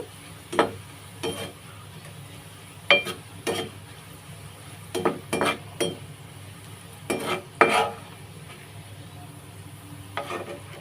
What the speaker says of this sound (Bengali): পেঁয়াজটাকে একদমই লাল কালার করে ভেজে নিচ্ছি